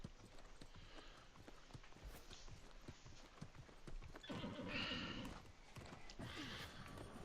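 A horse in the online game New World clops along with steady hoofbeats, then gives a clear neigh midway. The sound is quiet and there is no talk.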